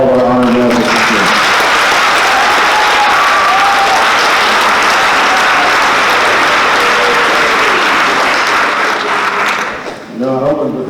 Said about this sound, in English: how about one more round of applause for all of our honor graduates this year.